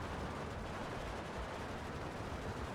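Infantry gunfire crackles steadily in a Steel Division 2 battle between Panzer Grenadiers and Grenadiers, a dense, continuous wash of rifle and machine-gun shots with no talk.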